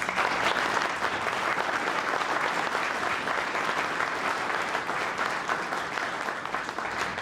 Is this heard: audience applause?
yes